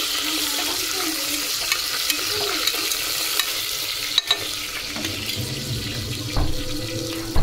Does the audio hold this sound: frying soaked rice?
yes